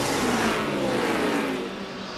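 Stock cars roaring around a short track during the 2006 Crown Royal 400 NASCAR race, a loud steady engine drone that fades slightly near the end, with no voices.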